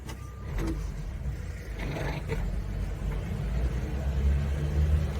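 A Suzuki Samurai engine idles with a low, steady rumble, close by and fairly quiet, with a few faint clicks and knocks above it.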